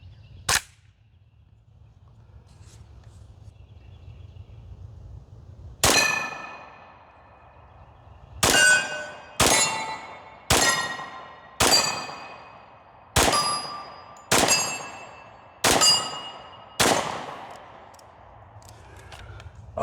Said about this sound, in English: let's start off by shooting this Ruger LC Carbine 45